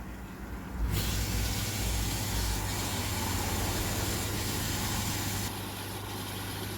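Oase drum filter motor running steadily after replacement, a continuous mid-pitched hum with a faint steady hiss, close and unbroken, easing slightly toward the end.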